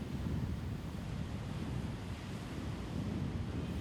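Ocean surf washes and rumbles against a rocky shore at Yeonggeumjeong, Sokcho, South Korea, in a continuous roar, with gusty wind buffeting the microphone.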